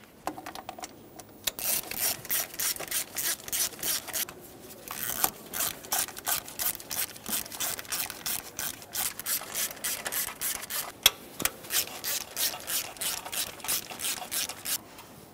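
Hand ratchet snugging intake manifold bolts on a 3.5L V6 Toyota Sienna, rapid repeated clicking bursts in short strokes with brief pauses between bolts, close up and alone.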